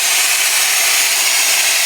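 A power tool cuts into a meteorite with a steady, harsh, high-pitched grinding hiss, close and continuous without a break.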